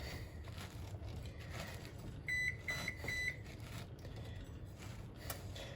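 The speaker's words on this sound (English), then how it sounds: "And that's the oven preheated to 350." Oven timer beeping as it finishes preheating to 350 for a key lime pie: a short run of about five clear electronic beeps in quick succession, moderately loud over steady kitchen background noise, with no talking.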